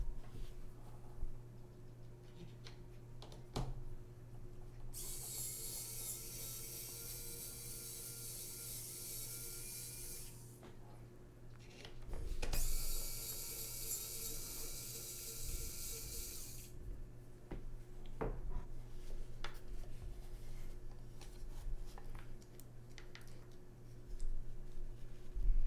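Screws come out of a mechanical keyboard in a quiet room, with faint small clicks and ratcheting turns of a screwdriver, set against two long bursts of steady hiss that drown out the work.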